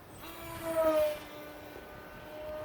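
A Sky Angel RC Rare Bear model airplane on a 3S battery, its electric motor at full throttle, gives a steady high whine with a tonal line that rises and swells mid-clip as it passes nearer, then fades, heard alone outdoors.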